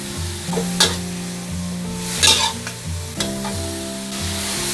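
Bean curd skin and glass noodles stir-fried in a pan, a steady close sizzle with several scraping stirs of the utensil, loud and continuous, with a low hum beneath.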